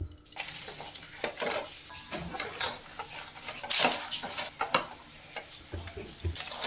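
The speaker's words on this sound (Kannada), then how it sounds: "ಅದನ್ನು ಚೆನ್ನಾಗಿ ಫ್ರೈ ಮಾಡಬೇಕು." Dried chilies frying in a hot pan, a continuous sizzle broken by clinks and scrapes of a utensil against the pan, close by, a few sharp spits standing out, no talking.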